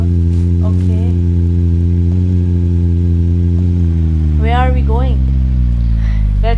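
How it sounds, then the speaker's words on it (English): A car driving in the Roblox game Prison Break, a steady engine drone with a falling pitch throughout, loud and continuous, with voices talking briefly over it. "Let me drive the car."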